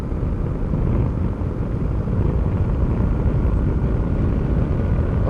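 A BMW R850R motorcycle on the move, a steady close-up engine drone with heavy low rumble and wind rush holding even and loud throughout, no voices over it.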